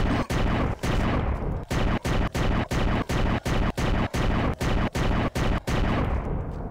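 Gunshots in the video game Down Below, about a dozen loud, evenly spaced booming blasts, each cut off by a brief gap, firing in a steady rhythm with no talking.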